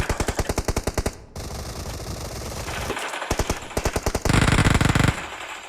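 Video game gunfire rattles in loud, rapid bursts of automatic shots, up close, with brief gaps between volleys and one dense sustained burst near the end.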